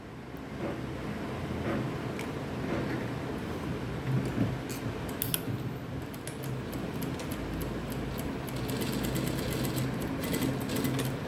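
A sewing machine stitches a cross piece joint in fabric, giving a continuous close mechanical whir with fine ticking over a low motor hum that holds steady throughout.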